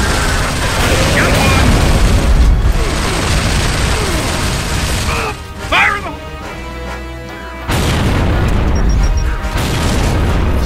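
Grenades exploding in rapid succession in the video game Gears of War, heavy booms and crashes layered over gunfire and combat noise, loud and dense with brief dips between blasts.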